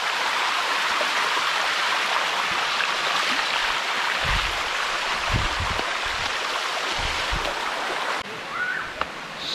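A waterfall along the Mae Hong Son route in Thailand roars as a steady, dense wash of falling water, filling the clip at an even level and easing slightly near the end.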